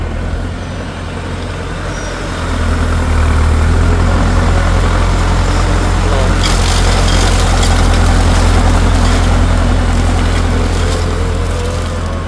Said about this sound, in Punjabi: ਹੁਣ ਟਰੈਕਟਰ ਬੜੇ ਆਰਾਮ ਨਾਲ ਲੰਘਦਾ ਜਾਂਦਾ ਆ